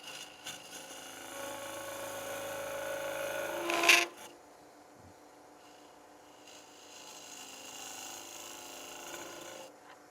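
A thicker, non-straight-sided scraper trims a clay coffee cup on a spinning potter's wheel, making a faint, continuous rasping scrape that peaks with a sharp scratch before settling into a quiet wheel hum.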